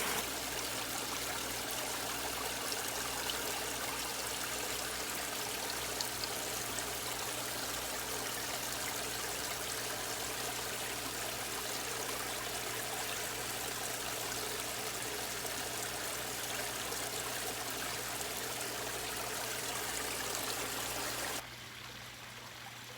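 Steady water flowing and trickling into an aquarium during a water change, a continuous rushing stream that holds level for about twenty seconds before abruptly dropping quieter near the end.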